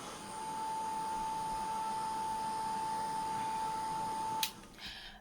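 A heat embossing tool blows hot air in a steady, close whooshing drone with a thin whine running through it, ending with a click as it switches off.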